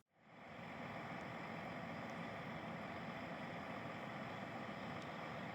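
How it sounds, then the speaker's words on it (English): A Mack semi-truck engine idles at a corn field during harvest, a steady low diesel rumble with broad noise that holds evenly and close throughout, with no voices. "Semi-trucks, like this Mack truck,"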